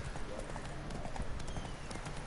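Roach the horse's hooves clip-clop at a steady walking rhythm in The Witcher 3, close and continuous over a low ambient background.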